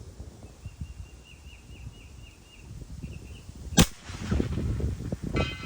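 A pellet from an FX Dynamic air rifle strikes a steel target far downrange, a single sharp faint clang standing out against quiet outdoor background noise, followed by rustling.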